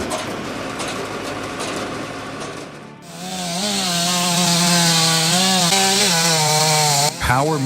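A Stihl MS 500i fuel-injected chainsaw cuts through logs with a loud, sustained engine whine that rises and wavers with load, following a stretch of rough wood-chewing noise, and then drops sharply near the end.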